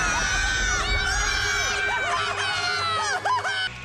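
Children screaming in a Halloween animated movie scene, a dense chorus of high shrieks and yells from a crowd, loud and sustained before cutting off abruptly.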